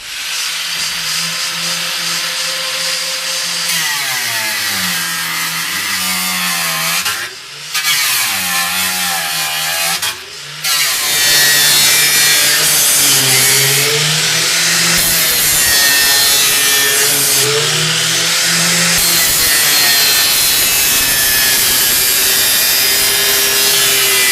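A hand saw rasps steadily through riveted panels of a smokehouse trailer in long, rhythmic strokes, briefly pausing twice before resuming louder and harsher.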